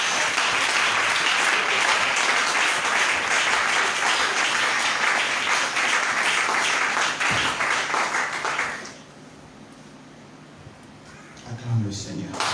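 A church seminar congregation bursts into loud sustained applause with many hands clapping, then it stops abruptly, leaving a quiet room with a faint voice.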